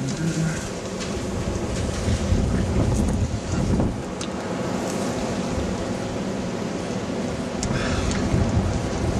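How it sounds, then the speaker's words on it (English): Winter storm wind roars steadily and blows snow through a closed door, a dense rushing noise close to the microphone with gusty buffeting throughout. "The winds are blowing snow through a door that I believe has been closed all through the storm"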